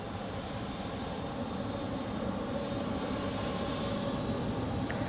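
Air Canada airliner on its takeoff roll at Zurich Airport, a steady broadband jet engine roar that holds a constant level throughout and sounds fairly distant, with no talk over it.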